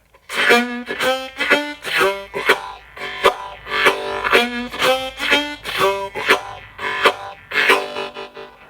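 Rhythmic, syncopated chords on a harmonica, bright reedy bursts pulsing in an uneven groove, played alone and fairly close.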